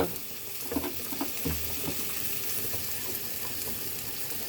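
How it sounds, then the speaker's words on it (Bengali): Soybean chunks fry in a pan for a vegetarian curry, giving a steady close sizzle with scattered crackles and light stirring scrapes, no voices. "সয়াবিনের সাথে মিশে একসাথে ভাজা ভাজা হয়ে যাবে"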